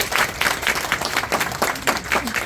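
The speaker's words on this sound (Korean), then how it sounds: "우리 박수 한번 부탁드릴게요" Brief, fairly quiet clapping from an audience at a business seminar, a ragged pattern of clap bursts over a couple of seconds.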